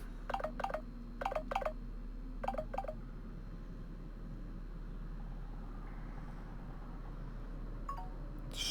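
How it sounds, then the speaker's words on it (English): A mobile phone ringing while The Outer Worlds is played, with several short bursts of electronic tones in the first few seconds over a low steady hum, then only the background drone. "That was my phone ring."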